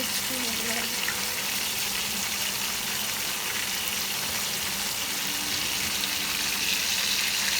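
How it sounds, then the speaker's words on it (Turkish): Dense, continuous sizzling and crackling from fish frying in hot oil in a pan, loud and close, with a steady hiss throughout. "Evet, balıklarımız kızarıyor"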